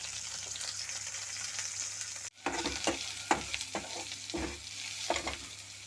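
Turmeric powder stirred into onions and green chillies frying in oil for a beetroot potato curry: an even sizzle, a brief dropout, then a louder hiss with repeated scraping stir strokes close by.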